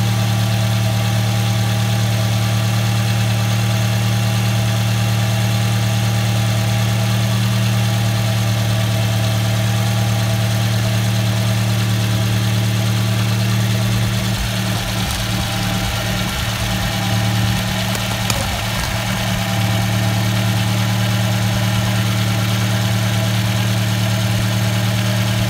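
A cold Nissan Sunny N14 with the 1.4 engine idles just after starting, holding a loud, steady hum with a low drone from start to finish and a brief wavering rumble partway through.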